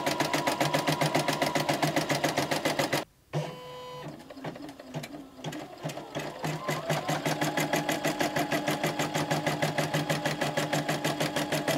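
A Poolin EOC05 embroidery machine stitches placement lines and lettering for an in-the-hoop sock monster softie, tapping in a fast steady rhythm, breaking off briefly with a few slower mechanical clunks, then picking up the same rapid stitching pace.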